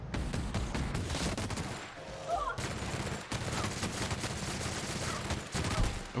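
Sustained gunfire in The Outer Worlds, a dense run of rapid shots with one brief break partway through, steady and fairly loud throughout.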